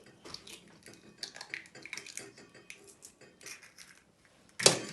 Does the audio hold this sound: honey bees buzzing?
no